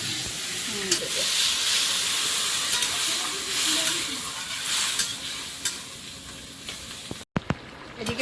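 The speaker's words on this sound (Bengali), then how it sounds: "পটল চিংড়ি আলু সব মশলার সঙ্গে আবার একটু নেড়ে চেড়ে দেবো" A pointed gourd, prawn and potato curry is stirred with spices in a hot pan, with a steady close sizzle and hiss under occasional scraping strokes of a spatula, and a brief break near the end.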